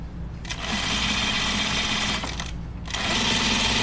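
Sewing machine running in two steady bursts while stitching down a seam on a men's button-up shirt, a brief pause between the runs, close and loud with no talk.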